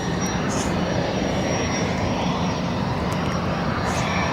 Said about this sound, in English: And this lovely jet is going to Palma.